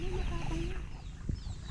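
Chickens cluck close by in a yard near a coop, several soft calls running together over a steady background hum.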